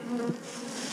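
Honey bees buzz around the hives in a bee yard, a steady close drone with one bee passing near the microphone, no talking.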